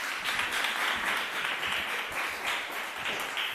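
An audience at a lecture gives steady, sustained applause for a speaker arriving from America, many hands clapping evenly in a hall with no voices over it.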